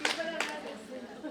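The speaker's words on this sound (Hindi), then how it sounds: "ताली कौन बजा रहा है?" An audience at a mushaira poetry gathering claps briefly, two quick sharp claps close together, then fades.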